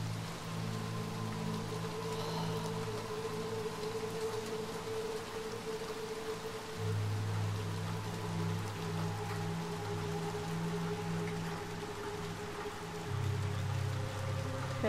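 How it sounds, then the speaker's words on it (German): Rain pours steadily in the video game Little Nightmares II, a soft, dense hiss of drops running throughout at low volume, with a low droning tone underneath. "Jetzt regnet es auch noch."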